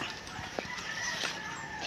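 Chickens on a small farm, fed down below, give a few short clucks and soft calls over steady background noise, moderately close and fairly quiet, with no talking.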